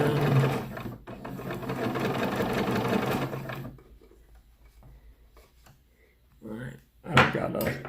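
A sewing machine runs loud and steady for a few seconds, stitching a down throw underquilt, then falls quiet before brief speech and handling noise near the end.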